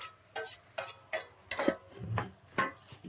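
A cauliflower and prawn curry with tomatoes is stirred in a pan, with intermittent close scrapes and clacks of a spoon against the metal over a faint, soft simmer.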